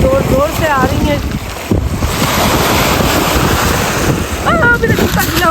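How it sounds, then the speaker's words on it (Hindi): Waves crash strongly on the shore at Ontario Place, a continuous loud surge mixed with heavy wind buffeting the microphone, while a person talks briefly at the start and again near the end. "और लहरें भी जोर जोर से आ रही हैं।"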